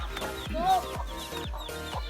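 A chicken clucks repeatedly in short, close bursts, with a few fainter squawks between them.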